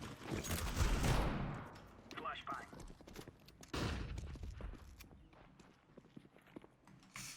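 Gunfire in a shooter video game: rapid bursts of sharp shots and clattering impacts, loudest in the first second and again near four seconds, with scattered quieter pops between.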